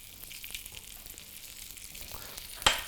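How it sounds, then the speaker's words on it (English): Steady, close sizzling of carrots frying in hot browned butter, ending with a sudden sharp clatter and a louder hiss. "So that you can hear that sizzle."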